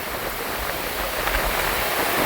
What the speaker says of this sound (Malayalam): മഴയാണ്, നല്ല കാറ്റും മഴയും കോളൊക്കെയാണ്.